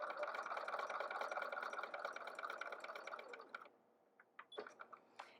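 A sewing machine stitching English paper piecing units runs in a fast steady whir for about three and a half seconds, then stops, followed by a few short clicks and knocks, close by with no talk.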